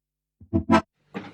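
A synth preset run through an LFO-driven filter, giving a few short rhythmic pulses that open up and brighten, heard alone and fairly quiet with gaps of silence between bursts.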